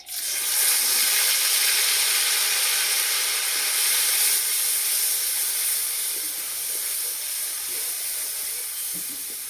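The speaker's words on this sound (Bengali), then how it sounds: "কড়াইয়ে সর্ষে তেল দিয়ে দেবো। তেলে দেবো শুকনো লঙ্কা, তেজপাতা, গোটা গরম মশলা, বেটে রাখা মশলাটা দিয়ে দেবো।" Dried chilli, bay leaf and whole spices fry in hot mustard oil in a kadai, giving a loud, close, continuous hiss and sizzle that holds steady throughout and eases slightly toward the end.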